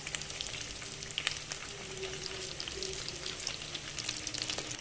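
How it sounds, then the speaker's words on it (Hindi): Potato chicken tikkis frying in a pan of oil, giving a steady, dense crackling sizzle that carries on unbroken at close range, with no voices. "ये देखिए जनाब टिकियाँ हो रही हैं फ्राई"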